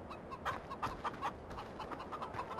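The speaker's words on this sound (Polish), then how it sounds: "widziałem, że tutaj chodził kogut" A farmyard rooster in the farming game Farming Simulator 15 gives a run of repeated clucks and short calls at a moderate level over quiet background ambience.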